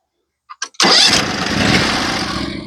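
A Norwood HD36v2 sawmill engine, used for cutting boards, cranks twice in short bursts and then fires, settling into a loud, steady running roar heard up close.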